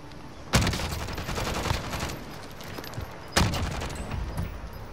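Gunfire in a Warzone match: two sharp, loud bursts of shots about three seconds apart, each trailing into a rolling echo over steady background battle noise.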